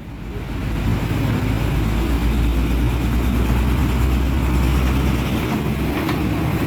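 A small diesel engine, hand-crank started, runs with a loud continuous low chugging rumble that rises within the first second and holds steady to the end.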